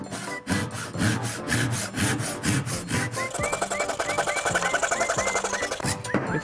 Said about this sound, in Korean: 톱질이 들어갈 때 왼손으로 톱을 갖다가